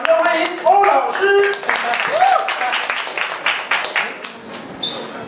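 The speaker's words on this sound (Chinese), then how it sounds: "让我们热烈掌声欢迎欧老师" At a talk event in Kaohsiung, an audience claps to welcome the next speaker. A voice speaks at the start, then scattered applause rises and continues to the end.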